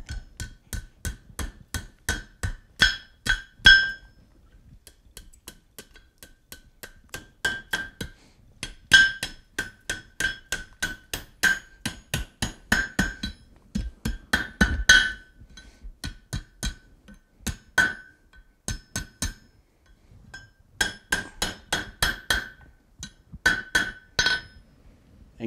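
Hot iron J hook hammered on the horn of an anvil, with bursts of rapid ringing metallic blows separated by short pauses, loud and close, no talk.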